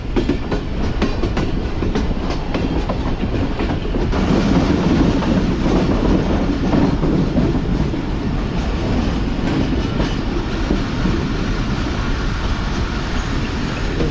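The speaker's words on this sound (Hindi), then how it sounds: "राइट कर्व के बाद एक लेफ़्ट कर्व लेते हुए ट्रेन कोठी जंक्शन पर अप्रोच बना रही है" Train rolling on rails through a left curve on the approach to Kothi Junction, aboard the Karachi Express hauled by a GU40 locomotive, number 9033; a steady, close rumble with rhythmic clatter holds throughout.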